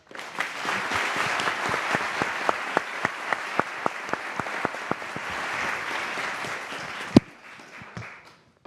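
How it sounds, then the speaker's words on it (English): Conference audience applauding a panel at a climate summit, sustained clapping with several distinct close claps ringing out in a regular beat, then thinning and fading to scattered claps near the end. "And a round of applause, please."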